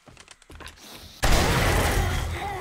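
Gunfire in the zombie survival game 7 Days to Die (Alpha 19): a few scattered, quieter shots, then a sudden loud, dense burst of firing that carries on to the end, with voices faintly underneath.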